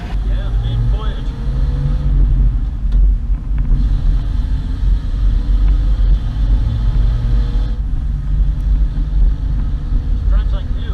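A 1939 Chevrolet Business Coupe driving, its engine a loud, steady low rumble from inside the car with wind noise and road roar, and people talking over it.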